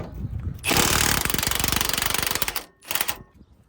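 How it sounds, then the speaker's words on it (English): A pneumatic impact wrench hammers on a 19 mm bolt under a Nissan 350Z in loud, rapid bursts, a long rattling run, a brief pause, then a shorter second burst, close to the listener. "So for this bolt on the bottom is gonna be a 19 millimeter. Wanna go ahead and grab your impact or your wrench, whatever you got."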